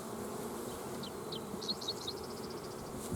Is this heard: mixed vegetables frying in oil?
no